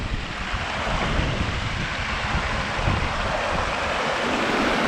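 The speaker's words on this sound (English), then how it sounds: "There's a lot of water coming off the hills" Water rushes down off the hills in a broad, continuous roar, loud and close, with gusty wind buffeting the microphone over the torrent's steady hiss.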